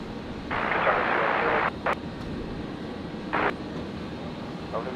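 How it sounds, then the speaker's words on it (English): A Boeing 777-300ER in from Doha taxis after landing at Brisbane airport: a steady broadband engine rumble with a few louder surges, heard from a distance in open air. "Triple 300 ER in from Doha, and now for the long taxi from over there down to International"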